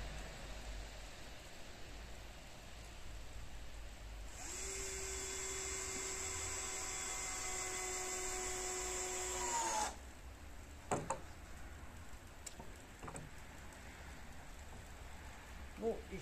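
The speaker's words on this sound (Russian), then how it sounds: "Еще одно я закручу здесь" A power screwdriver runs steadily for about five seconds as it drives a self-tapping screw into metal roofing at a ridge on a building site, followed by a few brief clicks and knocks in a quiet outdoor setting.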